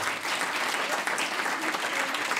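Audience applause at a queer and intersectional panel talk, an even, sustained patter of many hands clapping throughout, fairly soft and distant, with no speech over it.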